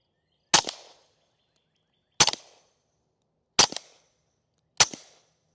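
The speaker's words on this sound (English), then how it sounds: "First few shots, I'm going to just shoot into the dirt just to see if we can tell any, or at least see if the mic picks up any sound difference" Four sharp, loud gunshots from a B&T TP9 firing subsonic 147 grain rounds into dirt at an outdoor range, evenly spaced about a second and a half apart, each with a short decaying tail and silence between.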